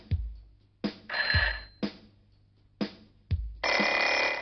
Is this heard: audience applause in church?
no